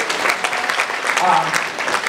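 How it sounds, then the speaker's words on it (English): A convention audience applauds, a steady dense wash of clapping throughout with a faint voice or cheer briefly rising in the middle. "definitely round of applause"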